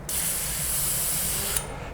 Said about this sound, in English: Okay, spray that out here, tip it out, spray the rest out